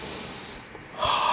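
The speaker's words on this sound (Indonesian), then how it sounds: "tarik napas dalam-dalam, buang napasnya pelan-pelan gini." Slow, deep exhalation during a morning exercise cool-down, a steady breathy hiss lasting over a second that swells louder near the end, close to the microphone with no talking.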